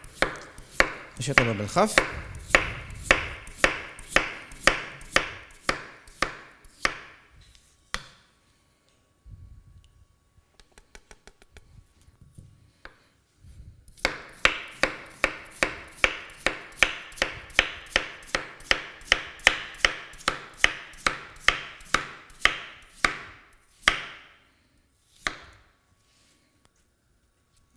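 A knife chops vegetables into thin slices on a cutting board for a Swiss chard and potato gratin, rapid even clacks in two long bursts separated by a pause, close and crisp, with a brief spoken remark in between.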